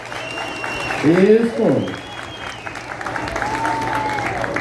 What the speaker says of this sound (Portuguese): vamos devolver os aplausos que eles merecem